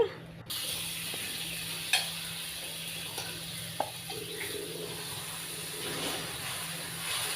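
Ragi dosa batter sizzles on a hot pan with a steady, moderate hiss, broken by a couple of soft clinks.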